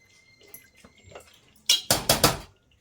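A metal lid set down on a cooking pot of Andhra-style guthokai (brinjal) curry, several sharp close clanks of metal near the end after faint kitchen clatter, with no talking.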